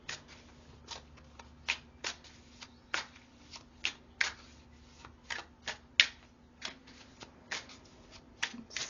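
Tarot cards from a romantic deck are shuffled close up in a quiet room, giving a steady run of sharp riffling snaps and soft slaps repeated about every half second.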